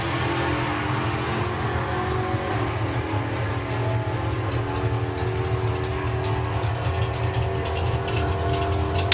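A Dodge Dart hot rod drag car at the NSRA Hot Rod Drags launches off the start line with a small wheelie, its engine a loud, steady roar that fills the whole stretch without a break.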